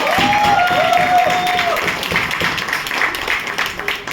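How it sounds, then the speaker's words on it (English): An audience at a Toastmasters club meeting claps in a lively burst that slowly thins out, with a voice briefly heard over the applause. "Guys, please give a huge round of applause."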